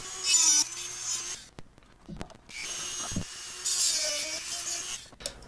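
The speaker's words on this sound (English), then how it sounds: "we're using a Dremel and this cutting bit, and we're just gonna make the switch not stick out so much" A Dremel rotary tool with a cutting bit grinds down protruding switches in two sustained high whining cuts, separated by a short pause with small clicks and handling noises, close and fairly loud.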